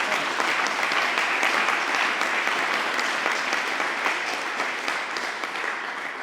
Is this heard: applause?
yes